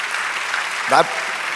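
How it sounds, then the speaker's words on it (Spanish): A church congregation applauding during worship in a continuous wash of clapping, with a brief spoken Spanish voice rising over it midway. "Dad, palmadas de aplauso, dice el Señor."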